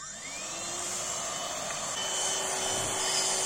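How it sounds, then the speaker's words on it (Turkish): A Tefal X-Force Flex 8.60 Animal Care cordless stick vacuum cleaner spins up with a rising whine, then runs at a steady, close, droning hum with a high-pitched motor tone. "Ufaktan bir çalıştıralım süpürgemizi arkadaşlar."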